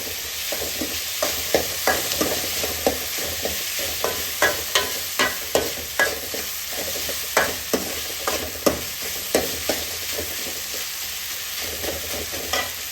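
Continuous sizzling of garlic frying in a pan, punctuated by repeated scraping stirs at a steady, fairly quick rhythm.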